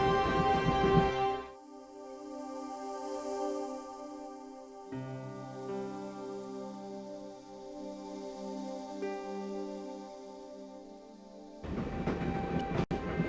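Train ambience in the Broken Sword game: a steady low rumble of a moving railway carriage with tonal hum layered underneath, loud at the start and end and quieter in between.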